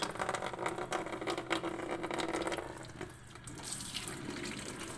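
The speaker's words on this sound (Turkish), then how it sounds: "Hadi açıyorum sen doldur." Tap water pouring into a collapsible accordion-style plastic water canister, a steady close rush that shifts in tone and deepens partway through as the container fills.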